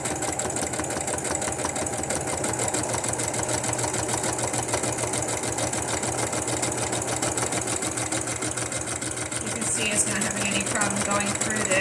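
A sewing machine stitches through strips of paper, a steady, rapid mechanical whirring and clatter that runs close and unbroken for the whole stretch without talk.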